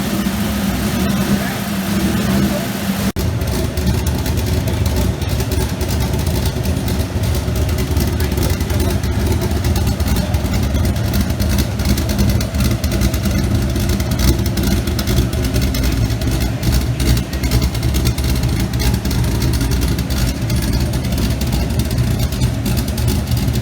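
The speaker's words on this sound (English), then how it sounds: "Okay guys, this is what it sounds like at idle." A 2000 Honda S2000 with an LS V8 swap, a mild cam and a 77mm On3 turbo idles with a steady, loud low rumble that holds evenly throughout, with a voice talking over it.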